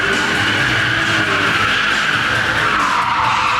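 A stunt car skids hard at a Hollywood Stunt Driver 2 show at a theme park, with a loud, continuous tire squeal and engine roar that holds steady throughout and has no talking.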